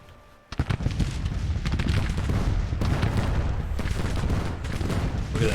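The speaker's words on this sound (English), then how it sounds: "Look at that artillery exploding over their heads." A 24-pounder cannon battery in a Civil War strategy game fires and bursts overhead in a dense, continuous barrage of loud booms and crackling explosions, layered with distant gunfire and no voices.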